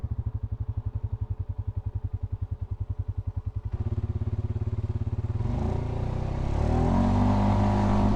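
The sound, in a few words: Polaris Sportsman 570 ATV engine during a test ride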